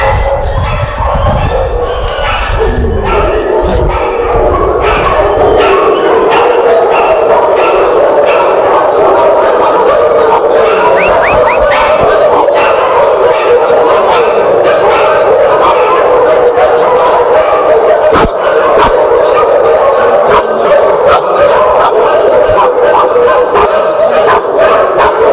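Dog barking and yipping inside a municipal pound paddock in Turnu Severin, Romania, loud and continuous for the whole stretch, with other dogs likely joining and faint voices underneath.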